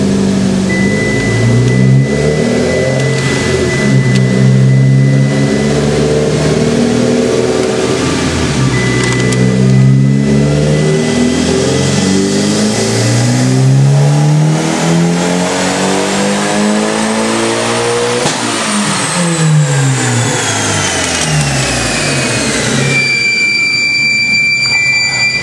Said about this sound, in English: so now we're going to do a pull with the Buschur exhaust on the car.